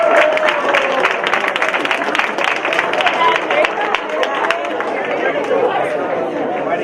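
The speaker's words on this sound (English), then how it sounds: "Let's give them a clap." A large room of high school students at a luncheon claps for the freshmen, a dense sustained round of applause mixed with cheering and crowd chatter, loud and continuous.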